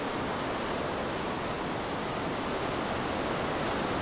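Victoria Falls in full flow: a steady, thick roar of cascading water, loud and close, continuous throughout without any break, voices or other sounds.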